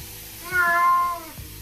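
A wet cat gives a single clear, drawn-out meow during a bath in a cat bag, close and loud with a short soft noise after it, and no talking.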